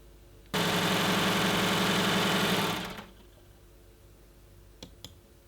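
A sewing machine stitches along a long strip of fabric for a ruffle, running loud and close in one continuous whirring burst of about two and a half seconds, then falling quiet apart from a couple of faint clicks.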